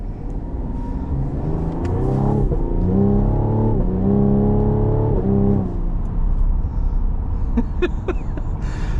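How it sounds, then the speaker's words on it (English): A 2021 Cadillac CT5 Premium Luxury with a 3.0L V6 revs hard through a series of quick upshifts, engine pitch climbing and dropping at each change, loud and close from inside the cabin before easing off toward a steadier hum. "Oh, those upshifts are ridiculous."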